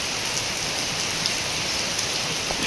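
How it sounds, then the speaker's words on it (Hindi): Gentle, steady monsoon rain falls continuously on surfaces, a soft even hiss with scattered drips and no wind or thunder, alone without any voices. "धीमी धीमी सी जैसी चाहिए वैसी ही बारिश हो रही है।"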